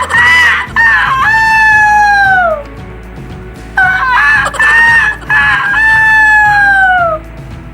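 A voice imitates a rooster, rendering loud, close crowing calls with long drawn-out wavering tones and clucking notes, in two bursts separated by a short pause.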